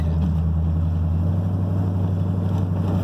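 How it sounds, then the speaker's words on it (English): Dually pickup truck with a new tight exhaust and headers cruising along, a loud steady low engine drone with a constant deep rumble throughout and no talking. "it's so nice to drive it with a nice tight exhaust and headers that don't leak."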